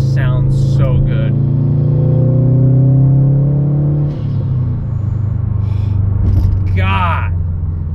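A 2021 Subaru WRX STI engine revs and rumbles loudly up close, its pitch rising then dropping, with a voice speaking over it.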